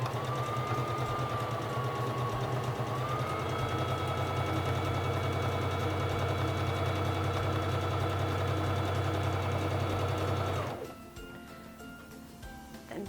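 A Singer Fashion Mate 3333 sewing machine runs steadily on stitch number 2 through fabric, a continuous whirring motor with a rapid needle clatter lasting about ten seconds before it stops abruptly.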